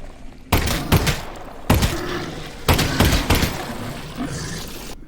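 Pistol shots fired in a VR video game played on a Pimax 8KX headset: three loud, sharp cracks with short rumbling tails, spaced about a second apart, standing alone without talk.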